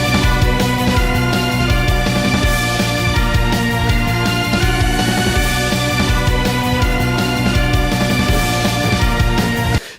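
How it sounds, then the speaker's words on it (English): Dense orchestral game music from the Xenoblade 2 soundtrack plays loud and full, with washy cymbals crashing throughout over a sustained band texture, cutting off sharply at the end. "You don't hear cymbals mixed like that or sounding like that every day."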